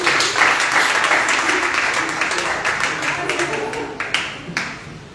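A church congregation claps and cheers in praise of the Lord, a dense wash of applause that swells early and then thins, with a few sharper claps near the end and voices mixed in.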